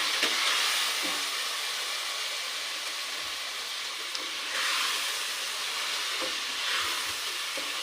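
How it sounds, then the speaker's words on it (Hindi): Spices fry with a constant hiss and crackle in a pot for palak gosht, while a utensil scrapes and stirs through them in soft, occasional strokes, heard up close with no talking. "अब हम इसको मिक्स करेंगे।"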